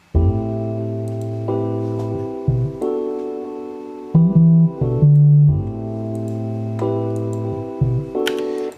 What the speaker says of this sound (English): distort your bass line